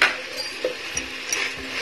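Vegetables and tomato pieces frying in a pan for veg biryani, with a soft steady sizzle and occasional light stirring clinks, close and quiet, no talk.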